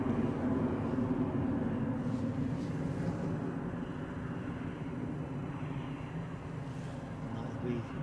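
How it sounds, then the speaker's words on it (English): An Embraer 190 airliner takes off from Edinburgh airport for London City as a low, broad jet roar at a distance, holding steady and easing slightly, with a person speaking over it. "That'll be first flight of the day from here to London City, an Embraer 190 long range."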